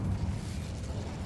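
An Incendio fire spell in Hogwarts Legacy gives a brief, steady rushing roar of flame, low and dense, at moderate loudness with nothing else over it.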